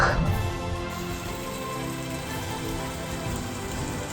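Steady rain falling in the mountains in June, a dense continuous patter of drops on surfaces, close and even throughout with no voices.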